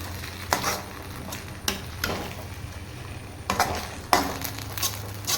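Carrot halwa stirred in a pan, with soft scraping strokes and a few sharper knocks of the spoon against the metal over a low sizzle, and no voices.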